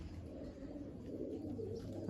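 Pet pigeons, a red hen and a red cock among kept birds, cooing softly in a low, continuous murmur, fairly close and steady throughout.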